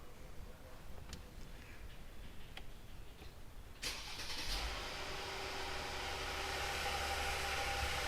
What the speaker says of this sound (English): So we'll start the vehicle right now.